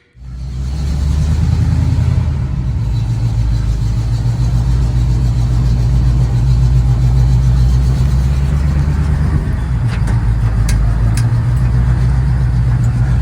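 A 1969 Pontiac Firebird with upgraded coilover suspension drives on a test run, its engine starting up and then running at a loud, steady near drone with slight throttle changes, with no talk.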